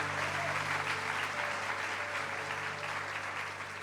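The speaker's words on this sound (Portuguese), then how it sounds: "Dá um aplauso para Ele, por favor" A church congregation applauding, a dense sustained clapping from a large crowd filling the room, steady throughout and easing slightly at the end.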